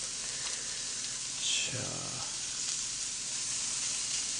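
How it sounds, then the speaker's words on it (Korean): Korean Hanwoo beef cuts sizzling on a grill, a steady broadband crackle and hiss throughout with a brief louder flare near the middle, while a person speaks a word over it. "아유, 소리가 또 지글지글 나고요."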